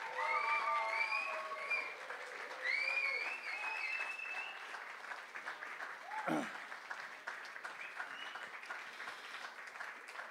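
An audience at a poetry slam in Wuppertal applauds the two finalists, steady clapping with scattered cheers and whistles throughout, loudest at the start and holding strong to the end.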